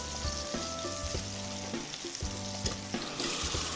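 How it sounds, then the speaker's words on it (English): Kofta meatballs sizzle and brown in a hot pan, a continuous close frying hiss broken by regular clinks and scrapes of a utensil turning them. "Koftas are looking real good, browning nicely on all sides."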